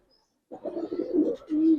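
A female pigeon of a large, fit breeding pair gives soft, low cooing calls in two short bursts, close and alone.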